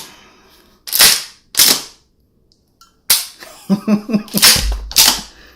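An AGT CAM870 Salient Arms MKIII steel-version CO2 shotgun with shell ejection fires several sharp, loud reports close by, two at first, then more after a pause, with brief mechanical clatter between them and a short spoken word.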